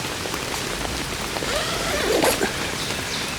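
Heavy rain drums steadily on a camping tent pitched in floodwater, a dense, continuous hiss of drops close by that swells briefly near the end, with no one talking.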